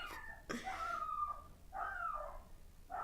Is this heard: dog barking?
yes